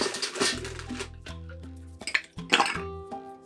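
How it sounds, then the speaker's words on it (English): Ice cubes clink and clatter into a cocktail glass in a few sharp bursts, close and fairly loud, with brief pauses between the drops. "We're gonna fill it up with ice."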